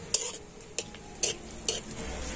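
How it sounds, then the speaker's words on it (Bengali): Mango poa pitha fry in oil in a pan while a spatula scrapes and clinks against the pan, giving four sharp taps over a soft, steady sizzle. "তো এইভাবে সব পোয়া পিঠেগুলো আমি ভেজে নেব"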